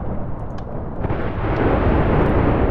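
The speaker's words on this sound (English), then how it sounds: "That is a true lightning cannon." A lightning cannon fires in Minecraft with a loud, sustained rumbling blast that swells and stays heavy and close to the end, with no voices over it.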